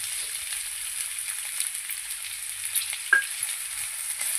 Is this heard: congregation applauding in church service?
no